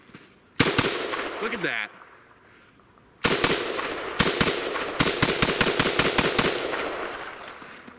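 A ZPAP underfolder rifle fires loud, sharp shots: a single report, a pause, then a long rapid string of shots at steady spacing, with someone speaking briefly between bursts.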